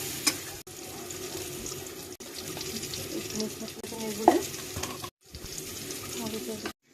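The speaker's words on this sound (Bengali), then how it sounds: "ভাজা ভাজা করে নিচ্ছি।" Eggplant frying in a pan gives a continuous, fairly faint sizzle and crackle, broken by a couple of brief pauses and small stirring knocks.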